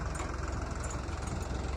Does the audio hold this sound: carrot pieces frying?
no